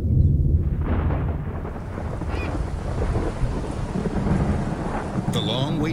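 A desert thunderstorm brings a dense, steady roar of heavy rain with deep rolling thunder beneath it, loud and continuous throughout.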